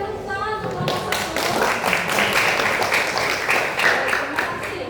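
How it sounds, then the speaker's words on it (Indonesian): A classroom audience applauds a student group after its presentation, with a burst of close, dense clapping that sustains steadily for several seconds. "Berikan tepuk tangan untuk kelompok 1."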